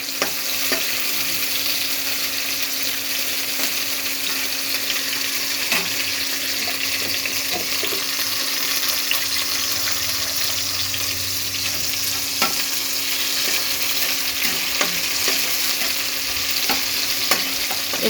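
Slit green chilies and garlic fry in a pan with oil, a steady close sizzle and crackle throughout, with occasional faint stirring clicks and no talking.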